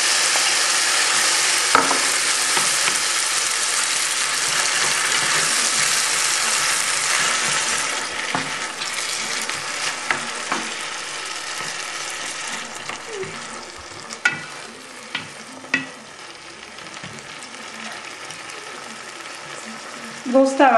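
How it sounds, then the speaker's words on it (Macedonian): Tomato frying in a pan for rice with eggs, a loud, steady sizzle that slowly settles, with stirring clinks and scrapes near the end. "Сега го додаваме доматот, исто така го пржиме,"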